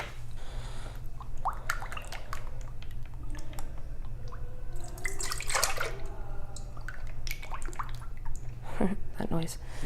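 Two cups of milk poured into a mixing bowl with other wet ingredients for an oatmeal bake, a soft splashing trickle with a few drips, close by, under a person talking.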